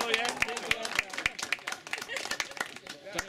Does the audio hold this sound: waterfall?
no